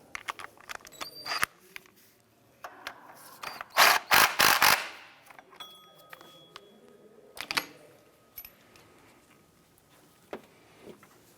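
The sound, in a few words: tightening engine mount bolts on Acura TL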